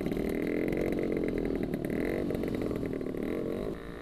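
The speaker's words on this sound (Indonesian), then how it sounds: "ini kenapa lagi nih motornya Mas Lukman trouble sepertinya." Suzuki A100 motorcycle with engine trouble idling roughly on a roadside stop during a tour, a buzzing, uneven two-stroke drone held close and loud, dropping slightly at the end.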